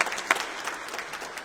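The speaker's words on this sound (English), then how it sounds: "One more round of applause, please." Audience at a heritage talk about Hull General Cemetery at Hull Minster gives a short burst of applause, steady clapping throughout with no voices over it.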